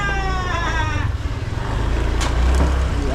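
A motorcycle engine runs close by at a steady low rumble, with a high whining tone early on and a couple of brief noises toward the end; no one speaks.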